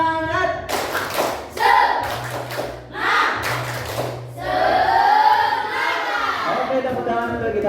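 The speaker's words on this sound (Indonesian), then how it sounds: "Tepuk semangat, semangat, semangat, gitu ya." A classroom of children doing a rhythmic spirit clap led by a teacher, with bursts of patterned hand clapping and group chanting alternating with the teacher's speech.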